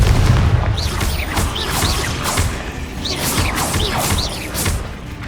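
The Confringo fire-blast spell in Hogwarts Legacy produces a string of booming explosive impacts and whooshes, each followed by a bright crackle, all loud and dense within continuous game noise.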